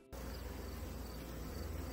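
Honeybees buzz at a troubled beehive in a dense, continuous drone that starts abruptly and holds steady and fairly faint, with no talking.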